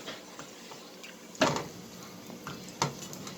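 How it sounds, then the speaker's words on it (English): A spoon stirring mac and cheese in a pot on the stove, soft scraping with two sharper clinks against the pot, close and quiet with no talk. "I gotta stir it."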